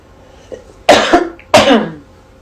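Two harsh, loud coughs close to the microphone, preceded by a faint throat-clearing sound, with quiet in between.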